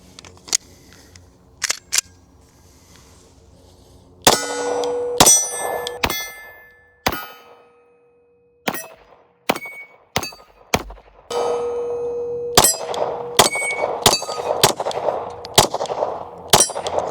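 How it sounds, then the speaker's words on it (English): Pistol shots fired at steel targets during a range session with a Walther PDP Match, heard as a string of sharp, loud reports, each followed by a ringing metallic clang, spaced irregularly with brief pauses between bursts. "let's shoot some steel"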